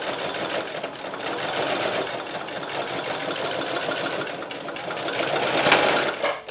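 A sewing machine runs continuously while top stitching the seam allowance on a face mask, a close, rapid mechanical chatter that holds steady and swells slightly near the end.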